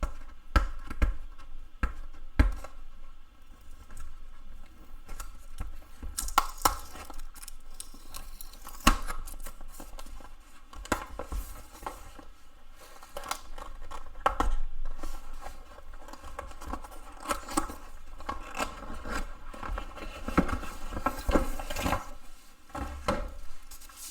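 Red-and-white Raspberry Pi keyboard packaging being opened by hand: continuous close crinkling, tearing and handling rustles with sharp clicks and thumps throughout, no talking.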